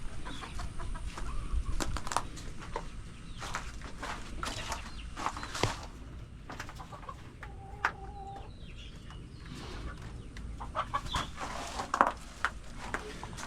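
Free-range chickens and a rooster cluck and call intermittently in an outdoor pen, with footsteps and scattered clucks near and far, and a brief crowing-like call midway; no speech.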